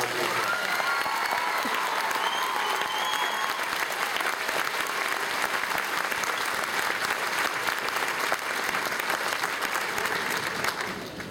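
Sustained audience applause for the graduating class at the Shenango High School 2012 graduation, a dense steady wash of clapping from a large crowd lasting throughout, with faint voices and cheers mixed in.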